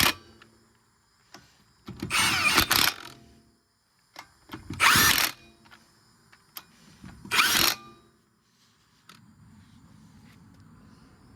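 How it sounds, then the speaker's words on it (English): An impact wrench tightening lug nuts on a Honda CR-V wheel during a hub and brake job, three loud rattling bursts of a few seconds each separated by quiet pauses with small clinks. "We'll zap the lug nuts on."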